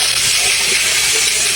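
Galunggong fish frying in hot oil for an Ilocano dinengdeng dish, a steady loud broadband sizzle and hiss that stays constant and close throughout, with no talking.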